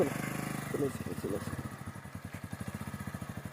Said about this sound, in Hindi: अच्छा भाई कह रहे थे तो मोटरसाइकिल को चलो चलाया मैंने